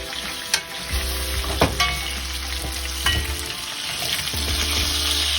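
A utensil scrapes the bottom of a pan of frying Jamaican brown stew chicken, with scratchy strokes and a few sharp knocks over a continuous close sizzle.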